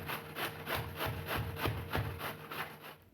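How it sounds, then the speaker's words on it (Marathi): Cabbage is grated finely by hand for stuffing, giving about a dozen rhythmic rasping strokes, close and fairly quiet, with no talk. "बारीक किसून घेऊ. तुम्ही चॉपरमध्ये चॉप करून घेऊ शकता."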